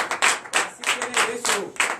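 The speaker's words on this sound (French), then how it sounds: "Donnez l'acclamation" Brief burst of lively congregation clapping at a Sunday church service, several rhythmic surges of hands close by, with a voice mixed in.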